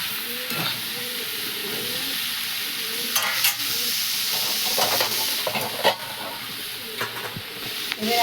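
Chopped tomato goes into a hot pan of freshwater snails, giving a steady sizzle and hiss with intermittent stirring scrapes and clinks close by.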